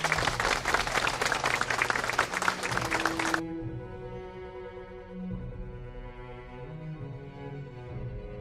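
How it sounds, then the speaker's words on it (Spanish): An audience at a church centenary celebration for Monsignor Tomás Alberto Clavel Méndez breaks into dense, lively applause for about three seconds, which then stops abruptly as sustained organ-like music carries on. "Un fuerte aplauso."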